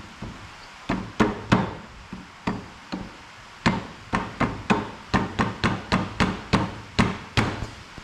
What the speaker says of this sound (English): We use a rubber hammer.